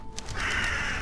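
Crows caw in the video game Paws: A Shelter 2 Game, a quick burst of harsh calls over steady ambient hiss, fairly close and alone without talk.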